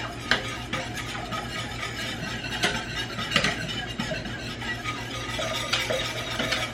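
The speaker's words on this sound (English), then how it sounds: "I am just going to whisk this together." A metal whisk beats a mixture in a kitchen bowl, a quick run of scraping, clinking strokes that stays steady and close, with faint kitchen background and no talking.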